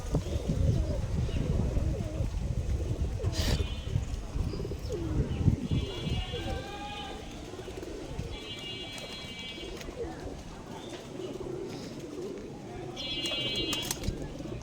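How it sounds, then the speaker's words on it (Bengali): Pigeons coo repeatedly in soft, rolling calls on an abandoned rooftop loft, with a few chirps, light fluttering and shuffling nearby. "সব কবুতরগুলোই আছে এখানে"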